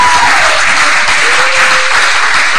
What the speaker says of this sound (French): Please clap for Bishop Saki